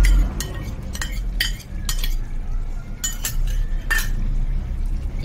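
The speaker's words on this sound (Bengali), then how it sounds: "এবার ভালো করে নেড়ে চেড়ে নেব।" A spoon stirs chana dal khichda with yogurt in a pot, giving repeated clinks and scrapes against the metal at an uneven rhythm over a steady low background hum.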